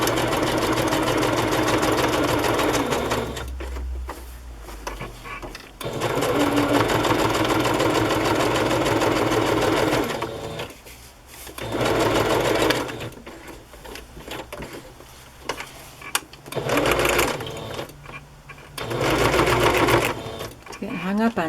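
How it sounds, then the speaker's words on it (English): A sewing machine straight-stitches around the edges of a fabric journal in long steady runs broken by short stops, with a speaker talking throughout and the machine briefly catching on the trim. "I'm going to be stitching around the edges here in the bottom so it won't stitch over any of that"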